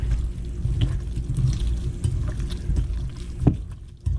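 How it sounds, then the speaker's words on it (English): Meat loaf mixture of ground meat, salt and pepper being mixed in a bowl, soft squishing and stirring sounds close by, quiet and irregular with a few small knocks. "I'm going to mix this all up."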